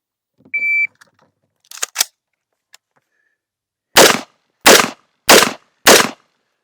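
Four loud pistol gunshots go off in quick succession, about two thirds of a second apart, after a short beep and some handling clicks as the gun is racked, in a home-defense firing drill.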